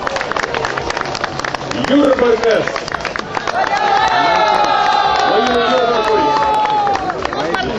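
Crowd at a gathering of former deportees and political prisoners in Ariogala applauds the delegation from Vilnius, loud sustained clapping and cheering that swells after a voice speaks over the start.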